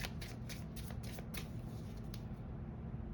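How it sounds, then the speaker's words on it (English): Cards riffle quickly in a rapid burst of crisp flutters, close up and quiet, fading out at the end with no talking. "All right, one more shuffle."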